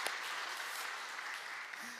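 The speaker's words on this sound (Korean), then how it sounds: "이렇게 대단한 일, 박수 한번." A church congregation applauding, a brief, soft wash of clapping from a room full of people, steady and fairly distant.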